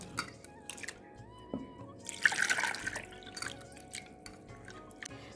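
Mung dal is washed by hand in water for gokul pitha, giving soft, faint sloshing and dripping with a brief louder splash midway, quiet and without talk.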